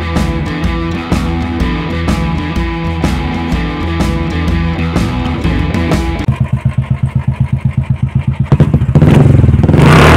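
A motorcycle engine runs loud and close with a dense, steady roar, then settles into a rapid, rhythmic chugging idle and picks up again in a short rev at the end.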